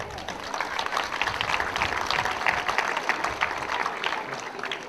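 Warm applause in a town's central square for women's cultural associations at a local festival, a dense, steady crowd clapping for several seconds.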